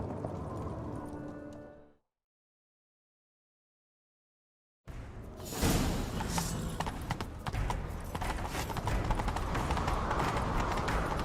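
After a brief silence, horse hooves pound in a fast, continuous gallop during a chase in The Witcher 3: Wild Hunt, loud and close, over a busy game soundscape.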